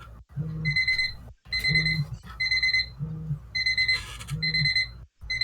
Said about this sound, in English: this is the timer.